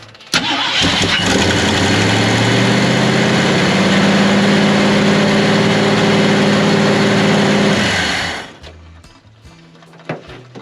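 A 1950 Ford F1 truck engine cranks, catches and settles into a loud, steady rumbling idle for several seconds, then shuts off, leaving a few faint clicks.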